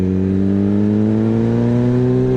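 A Suzuki Hayabusa motorcycle fitted with a replica Brocks Alien Head slip-on exhaust revs steadily, its loud, deep, close exhaust note slowly climbing in pitch throughout.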